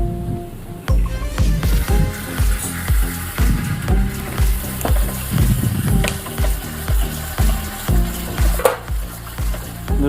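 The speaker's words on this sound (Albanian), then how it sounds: "brokolin frogojna në vaj ulliri, krep dhe biber" Broccoli fries in olive oil with salt and pepper, sizzling steadily while a utensil stirs and scrapes the pan in repeated clattering strokes.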